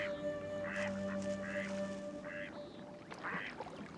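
Several ducks quack in short, nasal bursts spaced a second or so apart, fairly faint, over a quiet outdoor background with a low steady hum.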